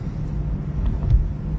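A 2019 Ford Mustang Bullitt V8 rumbles low and steady from inside the cabin while driving in second gear, a deep continuous drone with slight swells.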